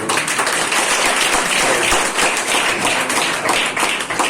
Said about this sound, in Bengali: আমরা সবাই নতুনদের জন্য একটা করতালি দিব না, জড়তালি দিব